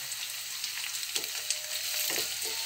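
Sliced green chilies and onions fry in hot oil in a pan, a steady close hiss of sizzling with small crackles and faint stirring scrapes.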